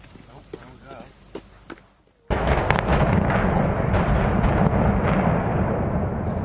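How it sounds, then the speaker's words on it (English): Demolition charges blow up power plant towers: after a few sharp cracks under quieter sound, a massive blast erupts and rolls on as a loud, sustained rumbling roar of collapse. "They just had to blow everything up first"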